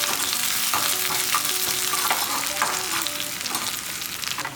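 Small shallots and urad dal fry in hot oil in a pan, giving a steady bright sizzle broken by the scrape and clatter of a spoon stirring a few times, close up, with no talk.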